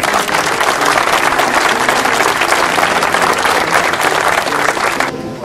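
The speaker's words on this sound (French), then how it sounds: "Donc, on peut l'applaudir." Loud sustained applause from a festival audience at the 9th Grandchamp'Bardement in 2014, a dense continuous wall of clapping that holds evenly for several seconds before cutting off.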